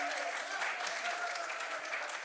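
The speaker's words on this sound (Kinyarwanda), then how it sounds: "mukoma amashyi." Wedding guests clap together in a steady, even patter that stays fairly faint and distant throughout, with no voices rising above it.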